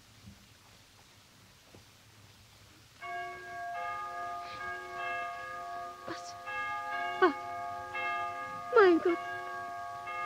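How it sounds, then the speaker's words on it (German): Church bells ringing out, arriving partway through after a rumbling rain-like background, with sustained overlapping tolls and repeated clangs building in loudness while a voice speaks in an exclamation over them. "hören Sie doch das Glockengeläute"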